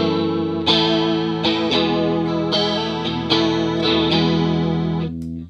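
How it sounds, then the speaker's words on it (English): Electric guitar run through a vintage Ibanez CSL chorus pedal with the speed at maximum, giving a fast, warbling Leslie-like swirl over strummed chords that ring steadily and then cut off near the end. "now let's crank up the speed all the way. All of them and see if we can get kind of a Leslie sound."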